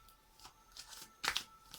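Soft riffling and flicking of tarot cards being shuffled, in a few quick bursts, close and quiet.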